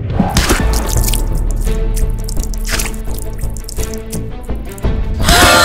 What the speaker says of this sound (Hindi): पानी कैसे गिर गया, पता ही नहीं चला इसके ऊपर।